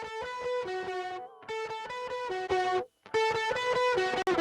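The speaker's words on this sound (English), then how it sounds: "A plugin that's great if you want to add grit and you want to be able to really control it is BERZERK Distortion." A track runs through the Waves BERZERK Distortion plugin, giving a gritty, buzzing tone in short, loud phrases separated by brief gaps.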